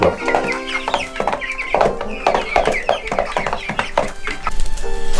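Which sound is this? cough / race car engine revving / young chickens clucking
young chickens clucking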